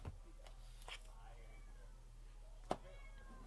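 Cat meows come through faintly against a steady low hum, spread as a few short calls across the stretch, while quiet voices murmur in the room.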